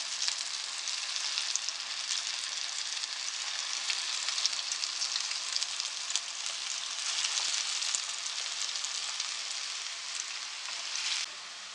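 Small moong dal pakoras deep-frying in hot oil, a steady dense crackling sizzle with fine popping bubbles that continues evenly for the whole stretch, close and moderately loud, with no talking.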